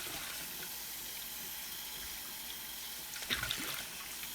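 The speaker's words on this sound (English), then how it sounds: "Give it a quick rinse." Tap water runs in a soft, steady trickle while an old glass bottle is rinsed, with a brief louder splash and clink near the end.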